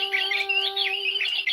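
A bird gives a loud, close squawk, a harsh, buzzy call held for about a second and a half without any other sound.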